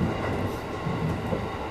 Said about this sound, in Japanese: この電車は常磐線いわき行きです。